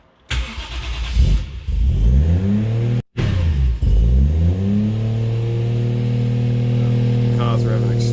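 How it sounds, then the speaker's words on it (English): A car engine cranks, catches and revs up high, then settles into a loud, sustained high idle with a brief cutout partway through, caused by a faulty throttle position sensor. "Car's revving extremely high"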